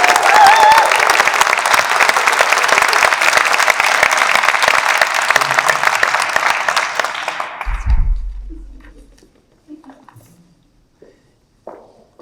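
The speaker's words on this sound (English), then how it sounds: "Please give Sharon a great applause" An audience at a fundraising gala for a prison outreach charity applauds loudly and steadily for about eight seconds, then the clapping quickly dies away, leaving a near-quiet room with a few faint stray sounds.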